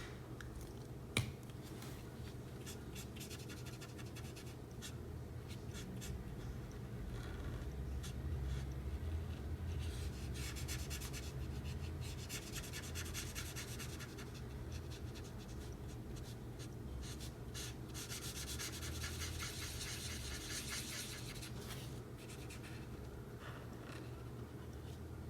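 A graphite colored pencil shades skin tones on paper, producing soft continuous scratching strokes close to the microphone, very quiet over a low background hum, with one sharp tap near the start.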